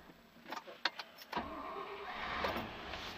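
A Land Rover 90 V8 County Station Wagon being started, with a short cranking whir followed by the engine catching and settling into a steady, fairly quiet idle.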